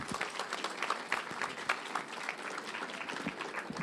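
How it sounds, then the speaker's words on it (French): An audience applauds two speakers being introduced at a science talk event, a dense, even wash of many hands clapping at moderate volume for several seconds. "Merci d'applaudir Niels et Baptiste."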